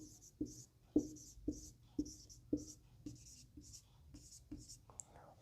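A pen scratches out a multiplication table on paper in a series of short, close strokes, each with a faint scratchy hiss, tapping along at a steady pace with quiet murmured talk underneath.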